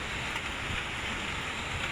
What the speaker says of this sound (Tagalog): palakas ng palakas yung hangin at saka palaki ng palaki yung alon